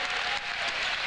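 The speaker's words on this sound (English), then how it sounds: "Jesse Ricker takes a seat, gets a nice round of applause." Crowd in a high school boys basketball gym applauding as a player takes a seat, a brief, steady wash of clapping.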